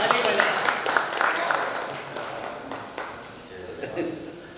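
An audience at a poetry recital at a kavi sammelan claps in a scattered burst that swells early and then thins out, with voices chattering across and after it.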